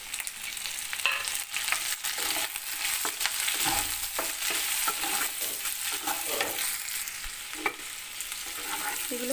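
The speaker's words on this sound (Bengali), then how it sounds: "দিয়ে দেবো আদা কুচি, ক্যাপসিকাম কুচি, এবার দিয়ে দেবো পেঁয়াজ কুচি," Chopped ginger, capsicum and onion fry in a pan for chilli chicken, giving a steady, close sizzle with faint stirring scrapes throughout and no talking.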